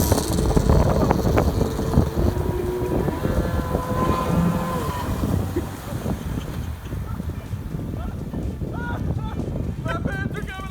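SuperJet stand-up wave runner riding on water, a rough engine drone mixed with heavy wind buffeting and splashing, with voices talking in the background.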